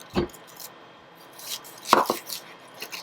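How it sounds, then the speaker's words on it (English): A knife cutting an onion on a board, a few sparse, crisp chops and taps separated by quiet pauses, close and fairly soft, with no voices. "So when cutting my onion, I'm going to cut the bottom part of it"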